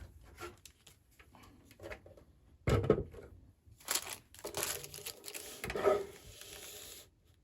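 Paper strip being cut for a junk journal: soft crinkling, rustling and scraping handling noises with a couple of sharper snips, close and fairly quiet with no talk.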